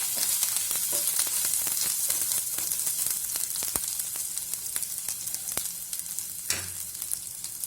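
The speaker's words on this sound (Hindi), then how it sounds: "इसमें सबसे पहले अदरक और लहसुन की पेस्ट सौते करेंगे।" Ginger-garlic paste sizzles and fries steadily in hot oil, with a constant crackling hiss and occasional scraping stirs of a spoon in the pan.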